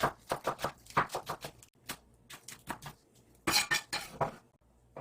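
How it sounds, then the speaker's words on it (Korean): A kitchen knife finely chops green onion on a cutting board, giving a quick run of sharp, close taps, a brief pause, then more rapid chopping strokes, crisp and fairly loud. "파는 이렇게 잘게 썰어줄게요."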